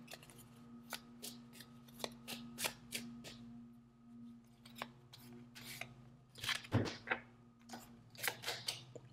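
Astrology cards are shuffled and drawn close by with soft, quiet riffling and sharp snapping flicks in irregular bursts, over a faint steady hum.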